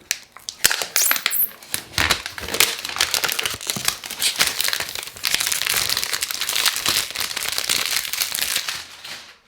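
Plastic film crinkles and crackles up close as it is peeled away, with sharp snaps and tearing rustles for several seconds.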